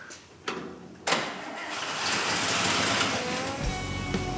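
A custom car engine cranks with a couple of sharp clicks, then catches and roars up, settling into a steady loud idle close by, with brief revs near the end.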